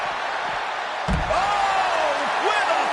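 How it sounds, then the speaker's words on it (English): A sharp, heavy slam of an ambulance door used as a weapon in the WWE 2K25 wrestling video game, a single impact amid crowd noise and commentary. "And using the ambulance door as a weapon."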